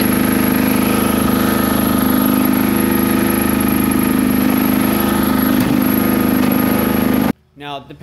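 A portable generator engine runs loud and steady with a constant droning hum and high whine for several seconds, then cuts off abruptly near the end, leaving a short quieter tail.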